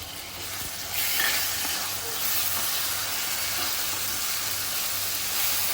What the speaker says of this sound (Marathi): कांदा टोमॅटो चांगला मऊ शिजवून घ्यायचा आहे